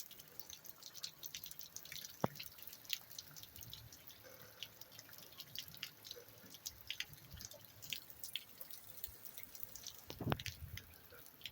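Rain from a tropical storm drips and trickles onto water-filled outdoor steps, a faint steady wash of running water with scattered close drops and a couple of sharper splashes.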